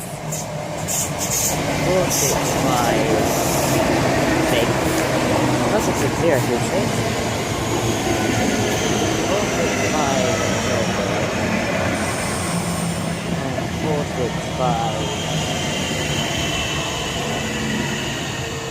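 Southeastern class 466 unit 466036 pulling into Northfleet station on the North Kent line, a loud continuous rumble of wheels and motors with brake squeal over it, close by and filling the whole stretch.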